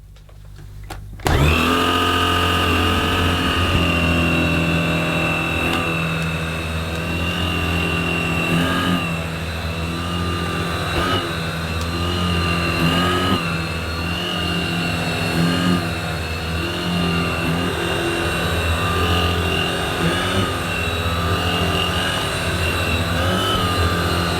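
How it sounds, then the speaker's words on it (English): An Electrolux vacuum cleaner switches on and runs continuously with a loud, steady motor whine and roar, alone and close by. "I'm going to clean this mess up using a real vacuum cleaner."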